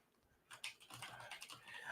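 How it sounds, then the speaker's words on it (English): Quick typing on a computer keyboard, a short faint run of soft clicking keystrokes close by in a quiet room. "I'm typing here as I'm losing my train of thought."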